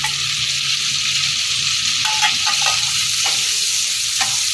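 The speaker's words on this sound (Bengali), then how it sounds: "ভালো করে নেড়ে চেড়ে নেবো" Green chillies and onions fry in a pan with a loud, constant sizzle, while a utensil stirs them in a few sharp scraping strokes toward the end; no talking.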